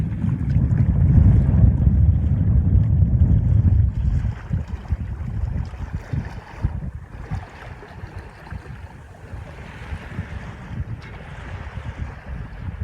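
A Baba 30 sailboat under headsail only on open water, with steady wind buffeting and water rushing along the hull, loud rumbling at first, then a lighter continuous wash and splashing.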